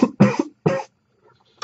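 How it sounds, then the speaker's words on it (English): Three harsh, close coughs from a person with a chest infection come in quick succession, then a pause before a faint fourth cough. "Bear with me because I'm going to be coughing a bit."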